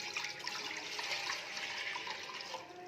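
Water pours steadily into a cooking pot, about one and a half kilograms of it, with a constant close splashing gush that holds for the whole moment and eases slightly at the end.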